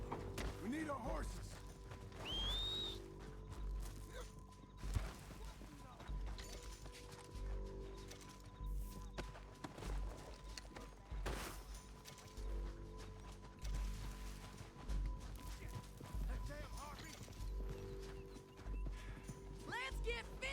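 Horse hooves clip-clop through a Red Dead Redemption 2 gunfight scene, steady mid-distance beats mixed with game music, occasional thuds and a whinny, while players talk over it.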